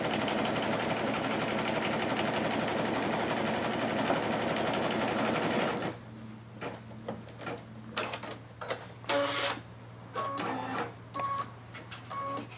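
A Kimberbell embroidery machine stitches a design with black thread, first in a dense, loud continuous whir, then in shorter choppy bursts of stitching with clicks and gaps.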